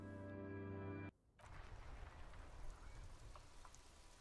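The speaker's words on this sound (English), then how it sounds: "it's fucking raining" Steady rain falling in the video game Disco Elysium, a dense patter of drops on surfaces that starts suddenly after a brief sustained musical tone cuts off, then continues evenly throughout.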